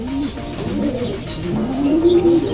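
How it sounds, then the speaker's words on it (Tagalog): A small pet pigeon coos steadily and close by, a continuous low warbling call that rises and falls over a couple of seconds with no other voices. "Ito, napakaliit na ibon."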